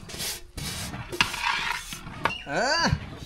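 A ladle scraping and rubbing around a pot as ragi koozh is mixed with grated coconut and crushed cardamom, several close rasping strokes, with a brief sliding whistle-like sound near the end.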